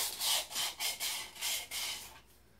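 Rust is sanded by hand from inside an engine cylinder on a 1975 C20 block abandoned for decades, about five rhythmic abrasive back-and-forth strokes, close and moderately quiet.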